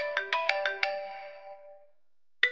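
A mobile phone ringtone plays indoors: a quick run of five bright, chiming notes that ring out and fade, then a short silence before the next ring begins.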